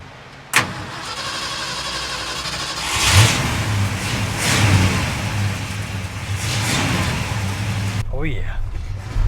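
A 1969 Ford F100 engine cranks and catches after years of sitting, then revs up and down in rough swells and settles into a loud steady idle, with a voice speaking over it.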